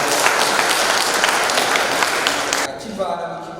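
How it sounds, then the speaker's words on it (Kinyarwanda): Loud, sustained clapping from a church congregation during worship, dense and steady, then cutting off abruptly as a voice begins speaking. "tugukoreye amashyi menshi"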